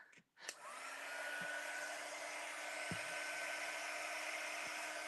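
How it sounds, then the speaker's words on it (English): Handheld heat tool for drying paint on a plant pot, switching on with a click and rising into a steady, close, airy blowing whine with a constant motor hum, plus a few faint knocks. "I'm just going to grab the heat tool and we'll dry it off a little bit"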